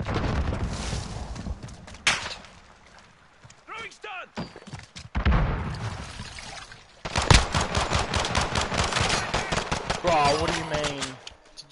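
Rapid gunfire bursts and single shots from Call of Duty: Modern Warfare in a 2v2 match, loud and close, with bouts of automatic fire and thuds, plus a brief booming blast. Voices talk intermittently between the volleys.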